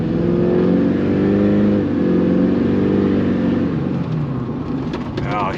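An LB7 Duramax diesel engine revs and pulls steadily at its first start, a loud continuous mechanical drone with shifting pitch, heard close up, with faint talk in the background.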